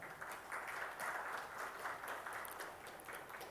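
An audience at a startup awards ceremony claps in a soft, distant, continuous patter that swells and eases slightly over a few seconds, with no one speaking.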